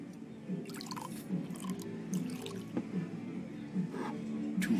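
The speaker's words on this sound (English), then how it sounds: "Can I pour you a glass?" A drink poured into a glass in Life Is Strange, a soft trickling, dripping liquid sound with small splashes and a few brief clinks, steady and close, without speech.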